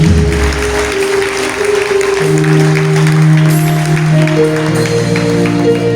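A church congregation applauds loudly and continuously, dense clapping mixed with sustained musical tones from instruments underneath, filling the whole stretch.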